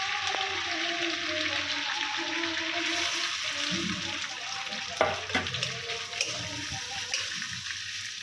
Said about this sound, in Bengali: এবার এর মধ্যে পেঁয়াজটা দিয়ে একটু লাল লাল করে ভেজে নেব।